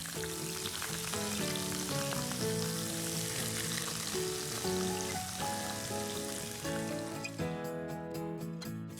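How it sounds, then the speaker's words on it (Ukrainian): Steady hiss and crackle of vegetables sizzling in hot vegetable oil in a frying pan, continuous throughout, with tuneful background music playing over it. "На сковорідці розігріваємо рослинну олію і обсмажуємо овочі."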